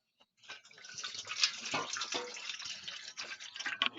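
Water splashes and trickles as it is poured into a container, a fairly close, uneven stream with small gurgles and drips, no voices.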